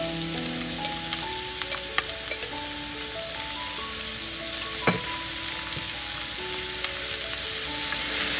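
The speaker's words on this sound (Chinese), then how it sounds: "用小火慢慢的煎。" Oyster mushrooms fry slowly in a wok of hot oil over low heat, giving a soft continuous sizzle with occasional small pops and a brief scrape of stirring, while faint background music plays.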